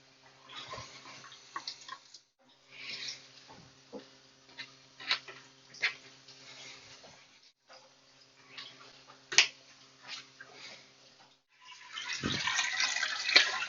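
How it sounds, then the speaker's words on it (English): Cool tap water runs over raw grouse quarters in a kitchen, heard as intermittent splashing and trickling with small handling clicks, swelling into a louder steady stream near the end. "So what you want to do is use a little cool water and run the quarters under that."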